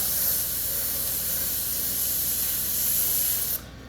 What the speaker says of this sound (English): Still have Wicked Smoke Detail Black in the airbrush